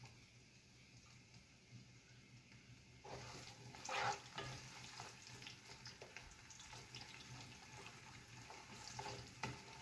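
Okra and spinach soup for a Nigerian dish being stirred in a pot on the stove, quiet at first, then soft bubbling, sloshing and scraping strokes that rise and continue to the end.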